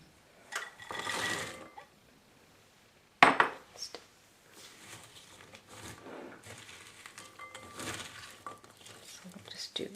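Pecan halves are stirred in a bowl for a Southern sweet potato casserole, giving soft clinks and scrapes in uneven bursts, with one sharp clatter and quiet rustling between them.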